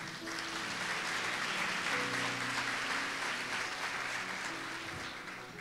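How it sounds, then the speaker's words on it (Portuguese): A church congregation applauding during a sermon, a thick, sustained roll of clapping with organ or keyboard tones humming underneath, holding steady before easing off slightly at the close. "Você pode dar um aplauso a Ele?"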